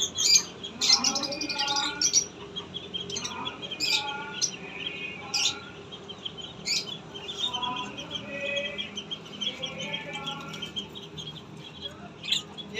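Lovebirds chirp and tweet in bursts at feeding time, sharp high calls repeating irregularly, fairly close, with some squawky notes and low background rustle.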